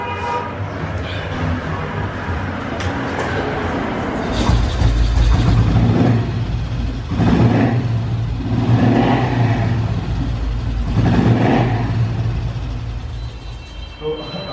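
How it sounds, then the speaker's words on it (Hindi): An old-model Royal Enfield motorcycle with freshly set ignition points starts and runs, its engine rising in a few loud revving bursts over a steady low thump, with someone talking over it throughout. "आप देख रहे हैं कि गाड़ी कितनी अच्छी स्टार्ट हो रही है, फायर भी मार रही है"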